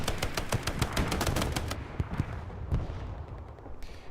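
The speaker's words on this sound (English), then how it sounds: "We got a couple explosions that just happened." Rapid machine-gun bursts and heavy booms fill a war video game match on the Omaha and Vierville map, with a fast loud volley that gives way to scattered single shots and distant blasts and no talking.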